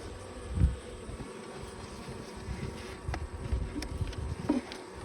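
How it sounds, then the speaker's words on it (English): Honey bees buzzing around an open beehive outdoors, a faint continuous drone with individual bees passing close now and then, and occasional soft thumps. "Bees are doing great."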